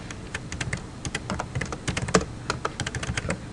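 Rapid, steady typing on a computer keyboard, entering a map tour title in ArcGIS Online: a close, dense run of light key clicks with no voices.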